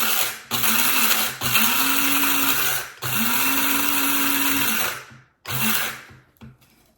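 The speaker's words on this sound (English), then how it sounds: "this is the coffee I'm using. I'm over here grinding it, by the way." A coffee grinder grinds beans for a French press in loud, close bursts: three long runs of steady whirring, then a shorter one, each cut by a brief pause before the clip trails off.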